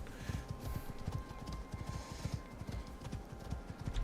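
Quick, rhythmic hoofbeats from horses in the survival game Icarus pound on without a break, close and fairly loud, with faint higher game sounds layered above.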